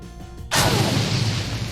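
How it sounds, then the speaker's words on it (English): A grenade explodes in the Shadowrun: Dragonfall video game, one sudden loud blast following a brief quiet lead-in, then a rumbling decay that lingers for over a second. "Alright, grenade."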